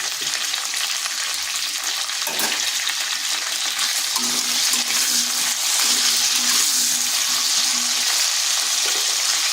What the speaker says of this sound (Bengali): কুঁদরিটা দুই থেকে তিন মিনিট একটু ভেজে নিলাম